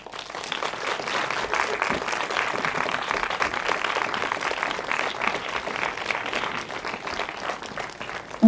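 A summer concert audience at Žiče Charterhouse gives a big, sustained round of applause welcoming a band on stage, dense even clapping that holds steady throughout.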